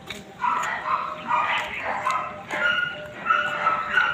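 Several dogs bark and yip in short bursts through the whole stretch, some sounding like whimpers, with no talk over them.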